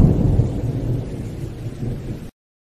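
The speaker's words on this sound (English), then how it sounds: "It rained heavily all through the night." Heavy rain and a thunderstorm roar as a dense, loud wash of rainfall with low rolling thunder, continuous for about two seconds before cutting off abruptly to silence.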